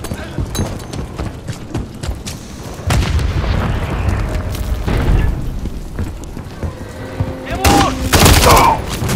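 Enemy gunfire in Call of Duty: Modern Warfare 3, loud rapid bursts and booming shots crackling densely throughout, with heavier blasts near the end and some voices mixed in.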